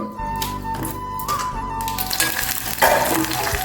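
Eight torn green chillies fry in a small pan on the stove, crackling and sizzling steadily up close with scattered sharp pops and light taps, and no one talking.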